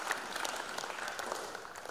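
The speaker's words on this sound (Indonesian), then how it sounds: "tepuk tangan untuk adik-adik para pemenang ya." An audience applauds competition winners at a DevOps tech conference in Jakarta, a steady, dense clapping from a crowd that fills the whole stretch without a break.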